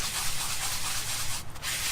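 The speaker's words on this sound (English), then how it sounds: "I'm gonna take me a paper towel here, and what I'm gonna do, I'm just gonna scrub" Steady, close abrasive scrubbing of a cast iron pan with a paper towel, kosher salt and oil, a continuous gritty rub with a brief lift near the end.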